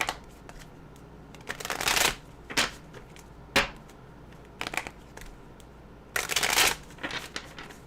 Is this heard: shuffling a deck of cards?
yes